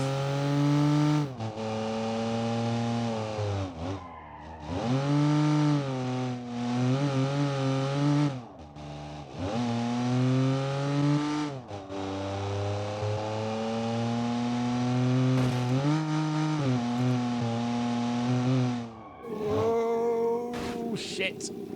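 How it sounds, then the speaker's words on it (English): A Felix Utility car engine strains loudly as it slowly accelerates down a drag strip, climbing in pitch through repeated gear changes with brief drops between, close and dominant throughout. "Really not helping that it takes a year to get up to any kind of speed in this car."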